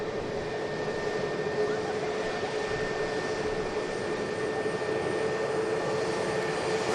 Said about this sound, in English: This is the Aer Lingus flight operated by Emirates Airlines. This is the Dublin inbound. 8-year-old ATR.